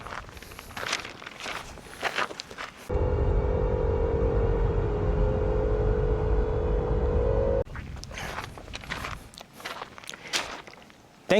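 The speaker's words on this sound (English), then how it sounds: "I'll insert a sound clip of the whining noise right now." High-pitched whine from a 2021-2024 Ford Bronco while driving: a steady, loud tonal drone over road rumble that lasts about five seconds, framed by the clatter of handling noise before and after.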